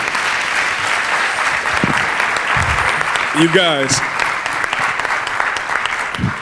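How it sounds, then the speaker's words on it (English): An audience applauds steadily at a community event bringing elders and youth together, a continuous wash of clapping with a brief spoken voice rising over it midway. "please give a round of applause for her, because she's great."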